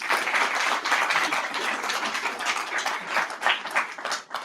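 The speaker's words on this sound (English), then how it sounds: "Let's give Chaplain Green another round of applause." A crowd at an AUSA holistic health event applauds Chaplain Green, a steady wash of clapping of moderate loudness that thins slightly toward the end, with no talk over it.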